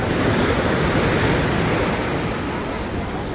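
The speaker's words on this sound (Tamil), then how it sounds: "கடல் அலை கோவில் செவத்துலேயே வந்து மோதுது கிழக்கு பக்க செவத்துலேயே வந்து மோதுது" Sea waves surge and crash continuously against the east wall of the seaside Tiruchendur temple, a dense, loud, steady roar with no voices heard.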